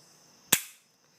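A single crisp snap as an HK P30 pistol's trigger breaks, sharp and close, with a brief decay and quiet on either side.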